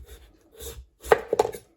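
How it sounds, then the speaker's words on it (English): Knife slicing the ends off a peeled butternut squash on a board, a few soft cuts followed by two sharper close chopping knocks, with no talk. "What I need to do is just cut the ends off."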